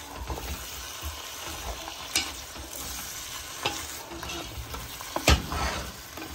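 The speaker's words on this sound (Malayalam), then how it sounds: "തക്കാളി ഇട്ട് കഴിഞ്ഞാൽ പിന്നെ പച്ചമുളക് ഒരു 2 എണ്ണം എന്നിട്ട് ഇതൊന്ന് മിക്സ് ചെയ്യാം." Tomato and green chillies sizzle in a pan for mutton curry while a spoon stirs them. Scattered scrapes and one sharp knock stand out over a soft, continuous frying hiss, with no talking.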